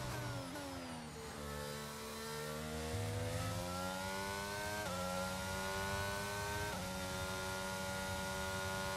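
An F1 car engine screams through a lap in the F1 22 racing game, a steady high whine rising through the gears with brief drops at each shift, heard alone.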